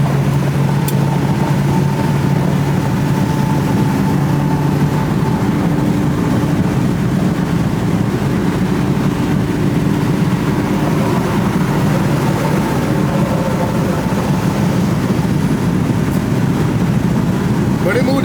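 A 1973 Chevy Impala with throttle-body electronic fuel injection cruising around town, a steady low engine drone and road rumble heard from inside the car, with a voice talking over it.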